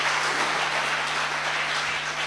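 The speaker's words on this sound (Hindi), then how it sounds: "एक बार तालियां बजाओ अटल जी और अब्दुल कलाम जी के लिए साहब" Steady crowd applause at a Hindi poetry recital fills the whole stretch, a dense wash of many hands clapping at once with no voices standing out.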